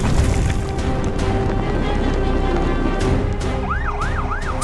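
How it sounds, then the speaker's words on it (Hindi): Sirens of a red fire engine and a blue police car in a cartoon rise and fall in wailing sweeps toward the end, over a dense, loud rumbling background. "सायरन की गूंज शांत हवाओं को चिरती हुई आगे बढ़ती है।"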